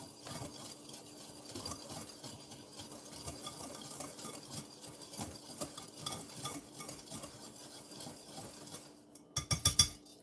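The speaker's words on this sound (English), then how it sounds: "We're going to mix up the sugars and the flour." Sugars and flour are stirred together in a bowl for a milk and sugar pie, soft scraping and swishing strokes with light clinks near the end, close and fairly quiet.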